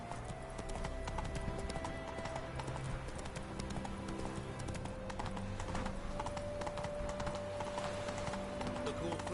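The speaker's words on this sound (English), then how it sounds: "Run, Roach." Video game horse galloping, rapid rhythmic clip-clop hoofbeats running continuously and fairly close, with music and faint game sounds beneath.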